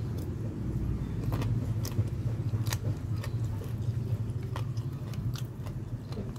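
Close, moist chewing of sticky rice, soft repeated bites and mouth sounds over a steady low background hum, with no talking.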